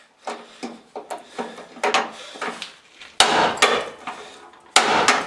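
Hammer strikes on a blue wrench trying to loosen a hinge screw on a shoebox Ford, a dozen sharp metallic knocks in an irregular rhythm, close and loud, with two heavier blows near the end.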